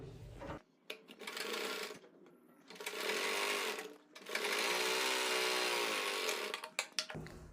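A sewing machine stitches the seat seam of a circle palazzo with a half-inch margin, whirring in several bursts of steady buzzing separated by short pauses and a few clicks, close and fairly quiet.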